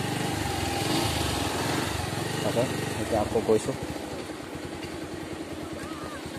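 A motorcycle engine runs on a ride to Kokochang waterfall; the bike has a fault and won't pick up speed. The engine's steady mechanical drone grows more distinct toward the end, beneath someone talking.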